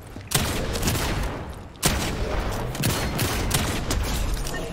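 Rapid bursts of automatic gunfire from the video game Fortnite, two loud volleys with sustained rattling between them, heard alone without talk.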